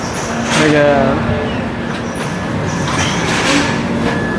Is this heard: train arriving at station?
yes